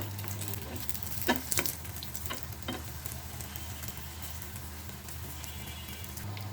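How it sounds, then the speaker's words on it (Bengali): A cheese-stuffed paratha fries in a pan with a soft, steady sizzle, broken by a few sharp taps and scrapes early on. "এখন ভাজবো ছাপাং করে পরোটাটা দিয়ে দিলাম"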